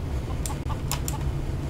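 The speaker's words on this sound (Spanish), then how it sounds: "Escuché otra gallina ahí." A chicken clucks in the Minecraft Day Z mod game, a few short, quick clucks heard faintly over a low steady background hum.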